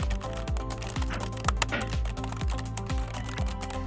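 Rapid keystrokes on a computer keyboard as a ChatGPT prompt is entered, a close, steady run of light clicks with a few heavier taps in between, no talking.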